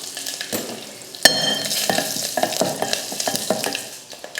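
Mustard seeds, asafoetida, curry leaves and dried red chillies sizzle and crackle in hot oil during tempering for a Tamil country-chicken kulambu, with a sharp pop near the start and steady stirring scrapes throughout, loud and close.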